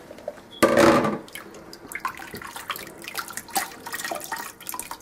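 Wet swishing and rubbing in water as hominy and greens are scrubbed, a loud splash near the start followed by steady sloshing and scrubbing sounds, close by.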